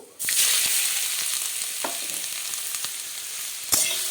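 Radish sizzles in hot oil with red chilli and nigella seeds, a steady crackling fry broken by a few sharp spatula scrapes and clinks, close and fairly loud with no talking.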